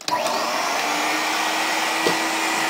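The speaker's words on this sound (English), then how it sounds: "we are going to vacuum up all the dirt before we wash it. So I'm going to use my Filter Queen" A Filter Queen vacuum cleaner draws dirt out of a tarantula tank enclosure, its steady loud whine holding constant, with a couple of brief rattles as debris is sucked up.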